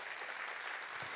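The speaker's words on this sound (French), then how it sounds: "Et les applaudissements du public sont juste derrière" Applause from the audience at a Lot-et-Garonne awards event, a steady wash of many hands clapping, fairly soft and distant, running evenly throughout.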